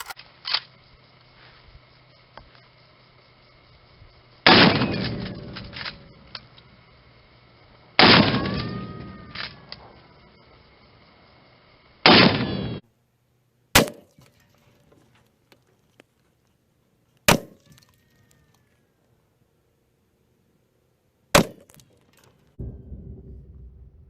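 Several rifle shots from a 444 Marlin fired at a pumpkin 50 yards away, each a sharp loud crack with a rolling echoing tail, spaced a few seconds apart outdoors.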